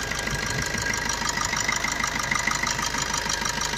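A 2016 Maruti Swift VDI diesel car engine idles steadily nearby, a continuous even rumble with a faint knocking clatter and no voices.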